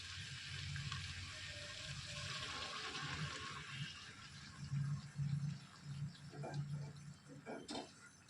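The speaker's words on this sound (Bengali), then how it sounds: "এবার আমি এর মধ্যে দিয়ে দিচ্ছি গরম জল" Hot water poured into a pan of chicken curry with peas, a steady liquid pour and splashing that swells in gurgling bursts toward the end, with no talk.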